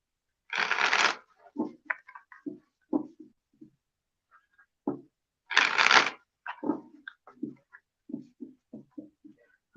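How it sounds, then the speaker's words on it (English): Two quick riffling bursts of shuffled cards, each followed by a series of soft taps and slaps as cards are squared and dealt. "One more shuffle."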